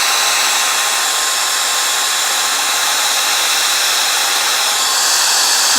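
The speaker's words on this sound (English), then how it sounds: "let's use the magical blow dryer. It's gonna be kind of loud, sorry." A hair blow dryer, used while applying 3D fiber lash mascara, runs loud and close in a steady, unbroken roar that fills the whole stretch without any speech.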